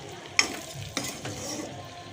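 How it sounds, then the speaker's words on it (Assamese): Meat and potatoes fry in a pan as a utensil stirs them, several sharp scrapes and clatters over a continuous sizzle, close and clear with no talking. "এয়া অলপ লৰাই দিছোঁ, এতিয়ালৈকে হোৱা নাই বাৰু মাংসটো"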